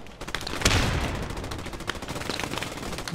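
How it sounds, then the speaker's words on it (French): Machine gun fire in a World War II video game rattles continuously in rapid bursts, with a heavier shot near the start and dense crackling battle noise throughout. "Je prends des tirs de MG là, mais vraiment lourd."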